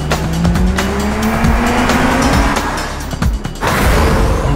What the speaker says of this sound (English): I need to warm up these tires.